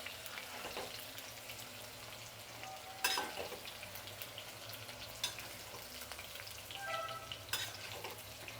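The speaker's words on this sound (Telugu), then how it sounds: "చూడండి బెండకాయ అనేది మంచిగా ఫ్రై అయిపోయిందండి" Okra frying in hot oil, a soft continuous crackling sizzle with occasional sharper pops and clinks of a utensil, fairly quiet and steady.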